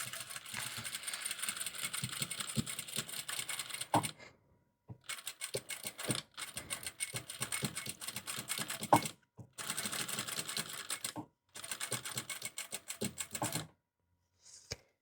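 Sewing machine stitching along the marked seam of a straight skirt, with fast even runs of mechanical whirring and rattling, stopping several times for brief pauses, heard up close.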